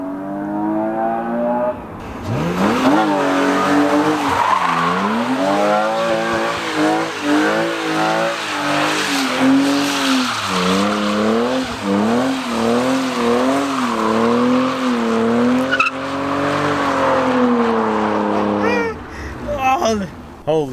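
BMW E36 M3 race car skidding through a turn with loud, sustained tire squeal over a revving engine that swoops up and down in pitch, close by, with brief voices near the end.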